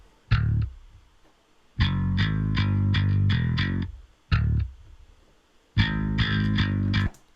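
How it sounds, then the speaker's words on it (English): Electric bass guitar playing short melodic phrases with a slightly gritty tone, separated by brief pauses. "So yeah, the organic bass, the played in bass, sounds like this."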